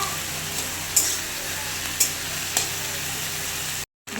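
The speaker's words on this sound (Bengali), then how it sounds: "পেঁয়াজটা লাল লাল করে ভাজবো।" Onions frying in a pan for a rohu fish curry, a steady soft sizzle throughout with a few brief clinks of a spoon against the pan, ending in a short silent gap.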